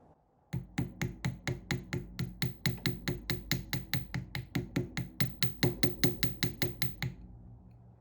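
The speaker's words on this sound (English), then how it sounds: "we're just going to gently hammer around everything to give it a bit of a equal pressure" Rapid, evenly paced light hammer taps on copper wire, around thirty strikes in steady rhythm, close and clear, then silence.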